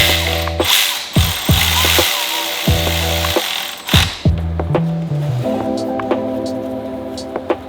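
A hand ratchet tightens a bracket bolt on a Subaru 2.5RS, giving loud, close bursts of rapid clicking in repeated strokes with short gaps, then lighter mechanical ticking.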